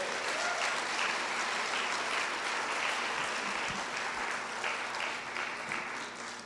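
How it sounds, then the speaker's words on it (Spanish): A church congregation gives sustained applause, a continuous wash of many hands clapping at a moderate, fairly even level throughout. "¿Por qué no le damos un aplauso al Señor?"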